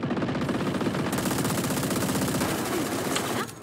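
Rapid automatic gunfire in Valorant, a dense continuous rattle of shots close and loud for several seconds, cutting off sharply at the end.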